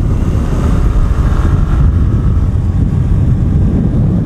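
Motorcycle engine with modified large tires straining up a mountain road near Kaybiang, a loud continuous low roar heavy with wind buffeting, steady throughout with no talking.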